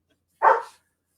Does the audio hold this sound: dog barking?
yes